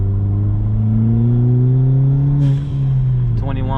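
Ford Fiesta ST with a turbocharged 1.6-liter engine pulling hard under acceleration, a loud steady engine drone rising smoothly in pitch from inside the car, with a brief shift-like dip near the end.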